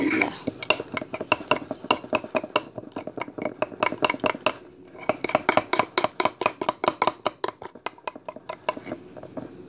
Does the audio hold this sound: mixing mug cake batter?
yes